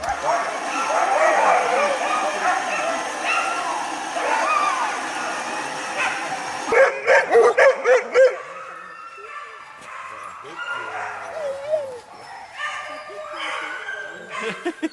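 Sled dogs at a club gathering bark, yip and whimper in a lively, repeated chorus, with a burst of sharp barks partway through, while people talk over them.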